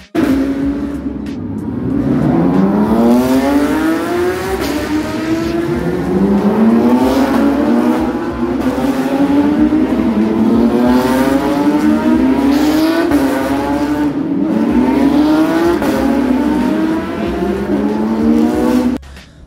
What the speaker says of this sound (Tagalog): parang start ng Porsche Cup, so galing garage sila